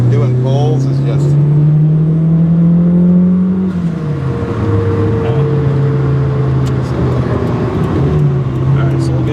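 A Toyota MR2 with an open-differential transmission pulling hard, its engine droning and climbing in pitch before a shift, then rising again, heard from inside the car with a voice talking over it.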